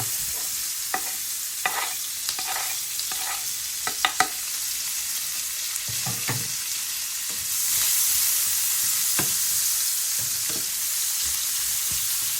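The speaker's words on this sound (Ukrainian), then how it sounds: "Ну все, і жаримо." Onions frying in a pan for a dumpling dish, a steady sizzle that swells louder midway, broken by several sharp clicks and scrapes of stirring.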